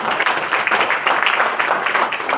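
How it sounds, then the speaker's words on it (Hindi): An indoor audience at a motivational business talk claps together in a dense, steady burst of applause that holds at an even, loud level for a couple of seconds. "आप सब एक बार आप अपने लिए जोरदार ताली बजाएंगे"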